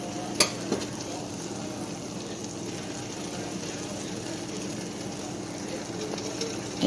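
Blueberry jelly churns at a rapid boil in a pot, a soft steady bubbling hiss throughout, with a couple of faint clicks near the start.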